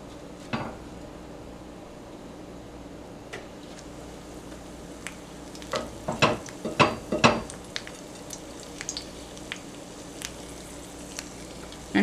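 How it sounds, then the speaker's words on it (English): Soft, steady sizzle of hot oil frying matzo-coated food, with clinks and scrapes of utensils against a pan in short clusters. "When I drop a matzah crumb in and it sizzles and browns"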